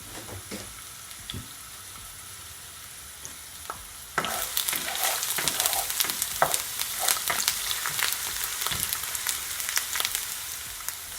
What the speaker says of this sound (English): And I'm just gonna allow it to saute for at least a couple of seconds.